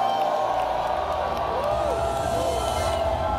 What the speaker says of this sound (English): let that amen come with a shout and a clap